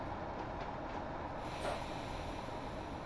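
A freight train carrying LPG from Stanlow to the Humber Oil Refinery rumbles along the Huddersfield Line, a loud, steady low roar of wheels and wagons with faint rhythmic clatter throughout.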